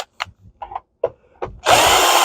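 A power drill drives screws out of a Shark Navigator vacuum cleaner, heard as a few short, close whirring bursts and then a sustained, loud spin at the end.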